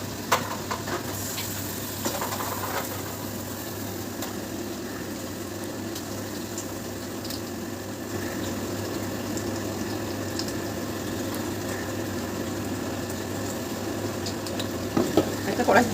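Chicken chap frying in a kadai and being stirred, a steady dense sizzle holding level throughout with occasional scraping clicks near the end, close and continuous.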